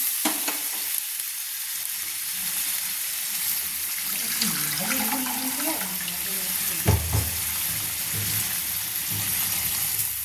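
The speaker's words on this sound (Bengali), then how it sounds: "এক বাটি জল দিলাম। দু বাটি দিলাম।" Bowlfuls of water are poured into a cooking pot for prawn malai curry over a steady background hiss and clatter, with a splashing, gurgling pour midway, close and continuous.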